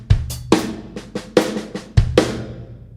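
A drum kit plays a linear groove and fill, with separate kick, snare and cymbal hits landing one at a time in a quick, uneven pattern, close and dry with no talking.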